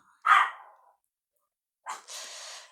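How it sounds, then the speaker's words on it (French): A pet dog, a female, lets out two sharp barks spaced over a second apart, the second trailing into a longer rough yelp, fairly close in an otherwise quiet room. "histoire de dire à ma chienne de se taire un petit peu"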